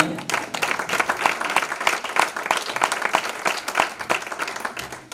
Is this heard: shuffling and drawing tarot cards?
no